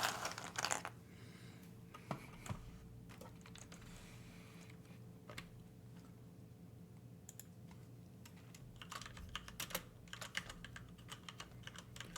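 Typing on a computer keyboard in a room, bursts of quick soft key clicks with short pauses, quiet and close, over a low steady hum.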